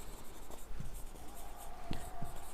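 Pen writing on paper during a maths lesson, soft scratchy strokes with a few sharper taps, close and fairly quiet over a steady background hiss, no talking.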